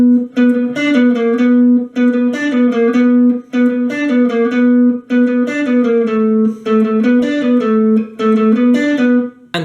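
Guitar plays the verse of a song, with a repeated picked figure of bright plucked notes in short phrases, clean and close, sustained notes ringing between brief pauses.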